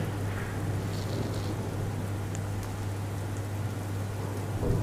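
Steady rain pours down in a continuous dense hiss, with a low hum underneath and no voices.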